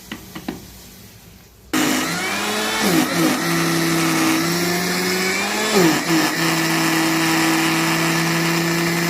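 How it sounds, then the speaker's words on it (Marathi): After a few faint knocks, a mixer grinder starts up, grinding soaked idli batter with a little water. It gives a loud, steady motor whir that shifts pitch now and then as the load changes, and it runs to the end. "आता थोडंसं पाणी वतून मिक्सरला लावून घेऊया बारीक असं"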